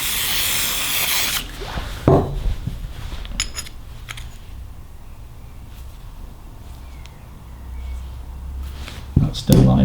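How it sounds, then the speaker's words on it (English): PTFE spray lubricant hisses from an aerosol can onto a bicycle part, a loud, close burst at the start, followed by metallic clinks and handling noises, with a voice speaking over it. "With some PTFE spray that I got from Obi."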